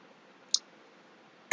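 Two sharp mouse clicks close up in a quiet room, one small tick followed about a second later by a louder click.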